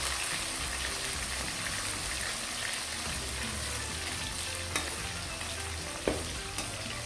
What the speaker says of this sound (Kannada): ಈಗ ಹಸಿ ಮೆಣಸಿನ್ಕಾಯಿಯನ್ನು ಹಾಕೋತಾ ಇದ್ದೀನಿ. ಹಾಕೊಂಡ ನಂತರ ಫ್ರೈ ಮಾಡ್ಕೊಳ್ಳಿ.